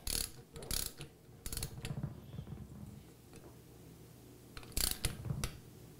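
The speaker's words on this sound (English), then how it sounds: "we're going to just bring them up till it clicks" Torque wrench clicking while tightening star-type connecting rod bolts during an AeroVee engine assembly, with several short clicks and ratchet taps in close-up, separated by quiet pauses and low mechanical rattling.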